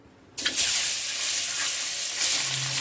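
Eggs drop into hot soybean oil in a pot, and a sudden loud sizzle bursts out and then holds as a steady, bright crackling hiss for a few seconds.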